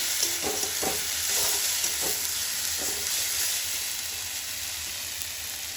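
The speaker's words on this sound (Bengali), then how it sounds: "মশলাটা একটু ভালো করে ভেজে নেব।" Steady sizzling of ground coriander, dried chilli and turmeric frying in a pan, with a few soft scraping stirs near the start, then a constant hiss fading slightly.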